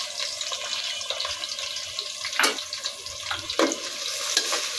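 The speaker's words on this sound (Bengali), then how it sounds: "পেঁয়াজটাকে হালকা ব্রাউন করে ভেজে নিব" Chopped onion fries in hot oil with a close, continuous crackling sizzle, broken by a few louder bursts as the pieces are stirred, and no voices.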